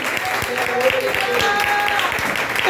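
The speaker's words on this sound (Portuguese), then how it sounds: "Está muito fraco, aplauda o Senhor Jesus." Church congregation applause continues as a dense wash of clapping, with a voice and some tonal sounds mixed in beneath it.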